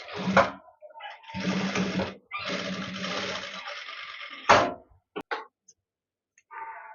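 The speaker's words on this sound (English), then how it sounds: "match the seam line and then stitch" A sewing machine joining a shoulder seam runs in three close, rattling bursts, followed by a few sharp clicks and a brief final whir, with near silence between.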